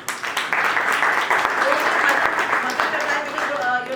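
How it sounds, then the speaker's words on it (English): Audience applause at a Rotary awards function, a dense, sustained clapping from a large crowd that holds steady and loud for the whole stretch. "Let us all clap for them."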